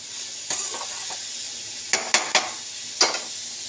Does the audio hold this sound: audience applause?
no